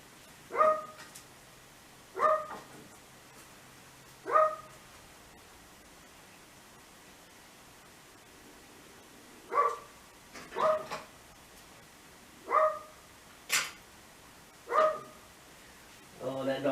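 A dog barks in sharp single barks spread irregularly, about ten in all with a short gap in the middle, moderately near over a steady background hiss.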